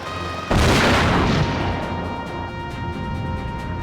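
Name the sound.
shooting an enemy mech in Front Mission 4 video game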